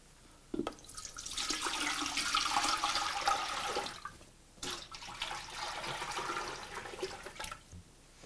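Apple juice, water and brown sugar brine with bay leaves, peppercorns and kosher salt is poured into a pot in two quiet, splashing streams, the second after a short pause.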